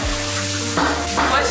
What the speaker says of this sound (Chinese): 今天这个是炒菜的